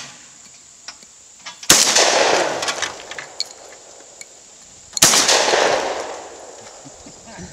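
Two loud shotgun blasts at clay pigeons, several seconds apart, each a sharp crack followed by a long rolling echo across an outdoor hillside, with small clicks and handling noises between.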